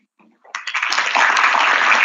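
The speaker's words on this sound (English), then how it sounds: "I would request everyone to welcome Mr. Siddharth Sanyal with a round of applause" Audience at an economics conclave at a Kolkata institute breaks into applause, a few scattered claps quickly swelling into steady, loud, dense clapping that continues to the end.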